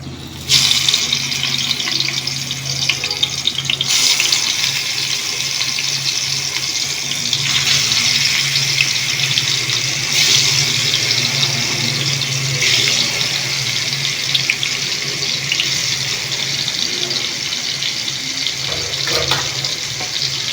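Fish pieces fry in hot oil over medium heat, giving a loud, continuous close-up sizzle and hiss with small shifts in intensity as pieces go in.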